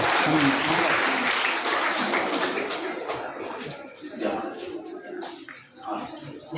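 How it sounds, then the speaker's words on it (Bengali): A crowd applauds at a school farewell ceremony, sustained clapping loud and dense at first, then thinning and fading somewhat, with voices mixed in. "একটু জোরে হাততালি, একটু জোরে করতালি"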